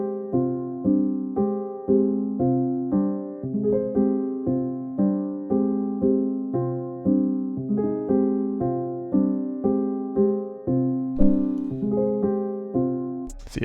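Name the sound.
soft piano MIDI chord pattern played in FL Studio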